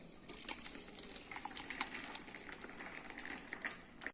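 Boiled mango pulp paste pressed through a strainer, giving soft wet squelching and liquid trickling with faint scraping clicks, steady and close throughout.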